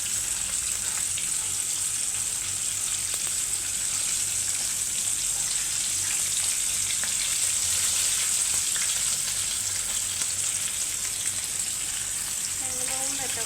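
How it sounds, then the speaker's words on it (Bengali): A large tilapia fish frying in oil in a kadai: a dense, continuous hiss and crackle held steady and close throughout, with a faint brief voice near the end. "ফ্রাই করা হইতেছে।"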